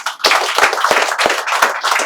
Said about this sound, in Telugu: Right answer. Claps for him.